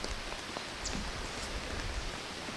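Steady rain pattering on a roof, a dense even hiss of drops with a few louder taps, no talking.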